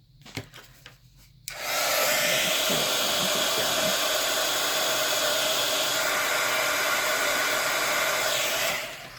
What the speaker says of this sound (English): The reason why I hit it with my heat gun, because I'm going to stamp right here.